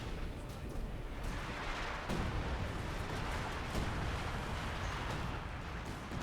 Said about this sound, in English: here we do got some assault artillery